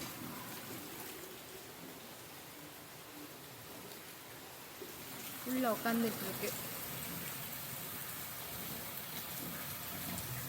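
Steady rain hisses in the background throughout, a soft even wash, with a person speaking briefly midway.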